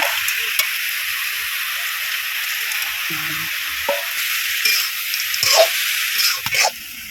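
Bori lentil dumplings fry in a pan for a village-style dish of fish and pea greens, a constant bright sizzling hiss broken by a few soft stirring knocks and scrapes near the end.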